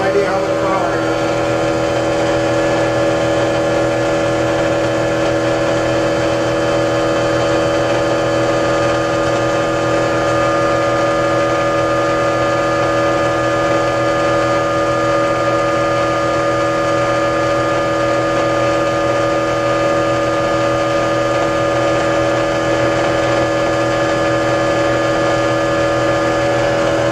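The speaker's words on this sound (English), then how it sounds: "I didn't hear any slowdown of the motor." A generator motor runs steadily under a load of 100-watt light bulbs, a loud constant hum with tonal whine and no audible slowdown, continuing unbroken for the whole stretch.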